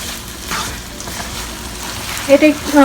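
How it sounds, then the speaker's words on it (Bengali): Thai curry stir-fried in a pan over high heat, giving a steady close sizzle with scraping stir sounds that swell near the end. "এই টাইমে কিন্তু হিটটা অনেক হাই থাকবে, কারণ এটা যেহেতু স্টার ফ্রাই করছি"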